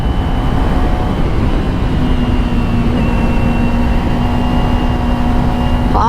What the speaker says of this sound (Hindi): तो आप बाइक की साउंड चेक करो